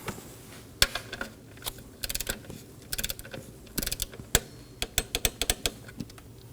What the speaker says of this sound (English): And torque this down to 62 inch-pounds.